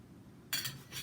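A spoon stirring blended pineapple and banana with balsamic vinegar in a bowl, giving two quiet scraping, clinking strokes close by with no talk.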